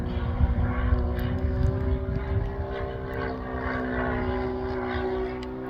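A Seagulls Spacewalker 1.20 model airplane's propeller engine drones with a steady buzzing whine, holding an even pitch nearby with faint wind noise.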